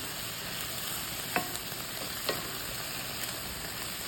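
Ground beef and onion stir-fry in a pan, giving a steady, even sizzle with a couple of faint scraping clicks from stirring, no voices.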